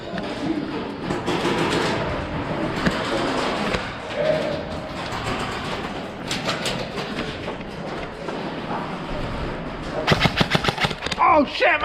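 Airsoft guns fire in bursts and rapid volleys during a game at an indoor tactical airsoft field, loud and continuous, with a dense run of quick shots near the end and people shouting over the gunfire.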